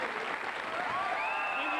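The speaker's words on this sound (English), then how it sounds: "The crowd's going wild." A studio audience at a live television talk show applauds steadily, a broad even wash of clapping with a voice speaking faintly over it.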